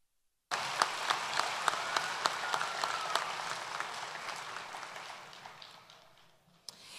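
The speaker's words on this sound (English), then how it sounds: "Please, warm round of applause for these master teachers." Audience applause at a spring graduation ceremony, a broad wash of clapping in a large hall that is steady at first, with a few sharper claps standing out, then thins and fades away toward the end.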